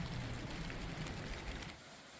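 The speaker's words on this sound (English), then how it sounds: "It is raining." Rain falling steadily in Waterton Lakes National Park, a soft even hiss that holds faint and constant before easing off slightly at the end.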